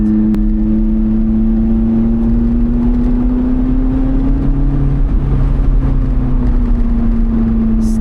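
A 2020 Lotus Elise Cup 250 engine droning steadily while driving on Swiss roads, a loud close cabin hum whose pitch slowly rises and then eases slightly, with road rumble underneath and no talk.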